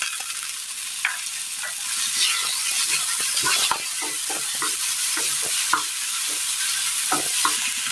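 Chopped tomatoes fry and are stirred in a pan while making a snack, with a steady close sizzle under repeated scraping spoon strokes and no voices.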